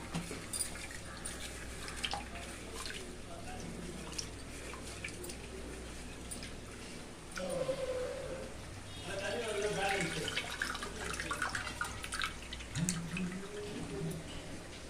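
Tamarind and salt being dissolved in water and strained while making kara kuzhambu: liquid splashing and dripping, with water sloshing that gets louder in the second half and persists throughout.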